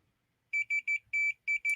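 Continuity tester beeping while checking a wire, giving six short, sharp electronic tones in quick succession, loud and close in otherwise quiet surroundings.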